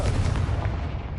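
Confringo blasting spell explosion in Hogwarts Legacy, a dense, booming rumble of fire and blast energy that fills the whole short moment at steady loudness with no talking.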